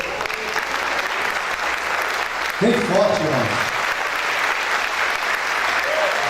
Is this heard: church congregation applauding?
yes